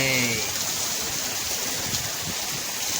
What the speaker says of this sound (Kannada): ಮಳೆ ಬಿಜಾಪುರದಲ್ಲಿ, ಭಾರಿ ಮಳೆ.